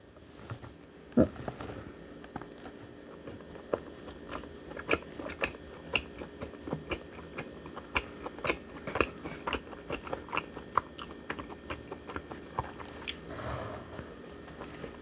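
Close, steady chewing of a soft, sticky mugwort chapssaltteok rice cake coated like injeolmi, with wet, irregular bites and crunches repeating throughout and no talk.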